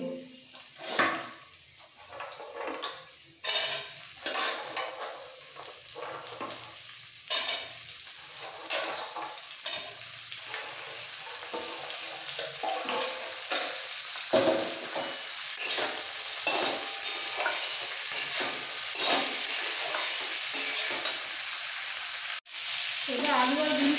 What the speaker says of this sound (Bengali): এবার আলু আর বিনসটা একসাথে ভাজতে হবে।